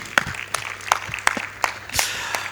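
An expo presentation audience claps for a speaker: a handful of separate, evenly spaced hand claps come first, then a brief swell of fuller applause near the end.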